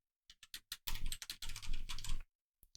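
Typing on a computer keyboard: a few separate keystrokes, then a rapid dense burst of clicking lasting over a second, stopping abruptly and ending with a couple of faint taps, close and clear with no voices.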